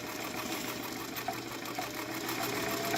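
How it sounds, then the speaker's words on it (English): A sewing machine runs steadily as fabric feeds through, a continuous fast mechanical whir and chatter, close and even, with no talking. "Letting it sew down."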